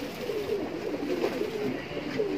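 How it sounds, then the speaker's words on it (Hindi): Big-size Kaldume pigeons coo in a continuous low, throaty warble, several birds overlapping in a steady rolling murmur at close range with no talking. "सब अच्छी क्वालिटी के कल्दू में कबूतर है।"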